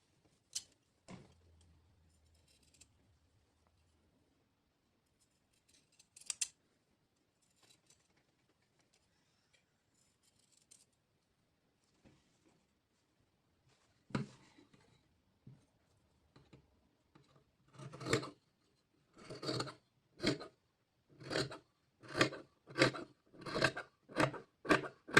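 Scissors trimming a fabric seam allowance, close and quiet: a few isolated snips and handling noises, then a regular run of crisp cuts in steady rhythm.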